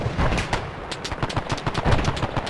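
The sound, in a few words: gunfire in video game ARMA 3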